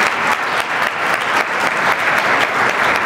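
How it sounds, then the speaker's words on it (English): An audience at an education conference applauds after a hard-fought contest, steady dense clapping that fills the whole stretch at close, even loudness. "Thank you for your round of applause for a hard-fought match."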